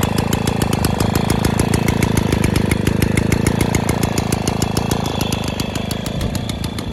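Motoconfort N40T moped engine running steadily after starting, a loud, close, rapid single-cylinder putter with even firing pulses throughout.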